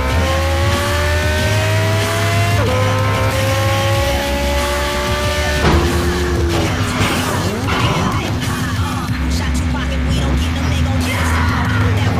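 Racing car driving in the mobile game Gangster Vegas, with a steady engine drone that shifts pitch as it changes gears, plus tire and road noise over a continuous game soundtrack.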